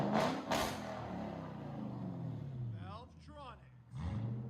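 A 1998–2005 second-generation Lexus GS (S160) engine revs and rises in pitch, a car sound that swells and falls over a few seconds while a person talks over it.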